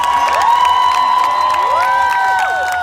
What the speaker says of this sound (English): A big round of applause for our Hugs Over Masks representatives.